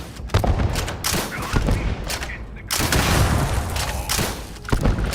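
A grenade goes off in the Starfield video game amid gunfire, several loud, close blasts and sharp bursts of shots layered over a rumbling battle.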